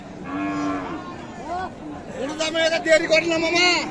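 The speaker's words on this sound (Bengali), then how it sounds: "এই 3টা কিন্তু আমাদের তাহের ভাইয়ের কালেকশন, সবগুলি কিন্তু চমৎকার গাভী গরু দর্শক, আর কুরবানি উপযুক্ত গরু এগুলা।" Dairy cows suitable for Qurbani at a cattle market in Raniganj, Bangladesh, let out several close, drawn-out moos over a busy background of crowd chatter, with people talking nearby.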